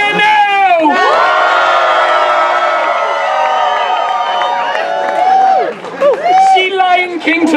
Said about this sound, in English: and you can cheer now.